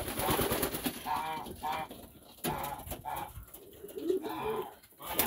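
Pigeons coo repeatedly and close by around a feeder, their soft rolling calls coming in overlapping bursts over scattered fluttering and background bustle.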